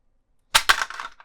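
The ejector seat trigger on a 1:8 scale Aston Martin DB5 model goes off after a silence as a single sharp plastic snap, followed by a brief clattering rattle, close and fairly loud.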